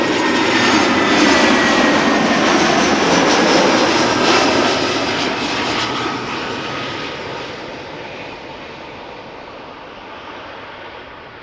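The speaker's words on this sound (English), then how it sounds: "This is Vueling flight 8354 arriving from Bilbao." Vueling airliner landing at Amsterdam Schiphol, a loud close jet roar that sweeps past and then fades steadily as the aircraft moves away.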